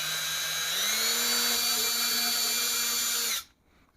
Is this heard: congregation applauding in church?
no